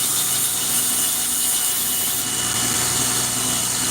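An abrasive grinder works steadily on the handle of a forged knife, taking down a ridge with a loud, continuous high-pitched rasping that holds close and unbroken throughout.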